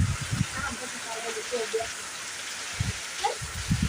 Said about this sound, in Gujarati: તમે જો તો કેટલો વરસાદ છે જો